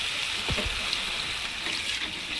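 Water goes into a pan of mutton curry with coriander powder, making a broad, continuous hissing sizzle that holds steady and close throughout.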